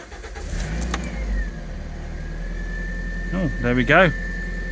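A Toyota MR2 engine running on old fuel cranks and catches, then settles into a steady low idle with a faint whine, while someone speaks briefly near the end.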